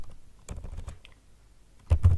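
A command is typed on a computer keyboard in a short flurry of close key clicks, a pause, then a louder burst of keystrokes, with no talking.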